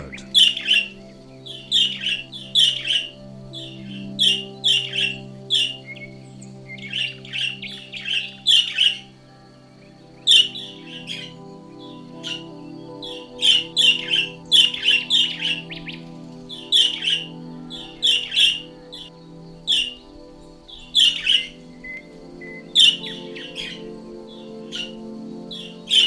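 Repeated chirping bird calls come in bursts with short pauses, sharp and fairly close against a low steady background hum.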